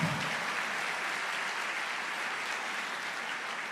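A church congregation claps in praise during a Portuguese-language service, a steady, evenly sustained roomful of applause heard at moderate distance without a break.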